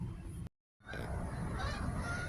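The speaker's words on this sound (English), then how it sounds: "Don't know if you guys can hear the geese flying overhead." Geese honk while flying overhead outdoors during autumn pumpkin picking, a continuous noisy mix of calls carrying on after a brief dropout in the sound.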